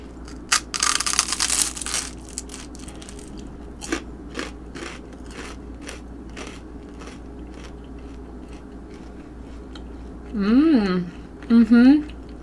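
Several sharp crunchy bites and chewing on a fried, crisp keto chaffle onion ring, close up, with bursts of talk between them and a short vocal exclamation near the end.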